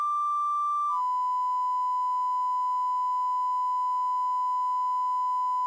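A Schräg filter, a Bastl Cinnamon clone, self-oscillates at resonance with its cutoff centred, giving a steady pure sine tone tuned near 1000 Hz. The tone shifts slightly in pitch just after the start, then holds clean and unbroken.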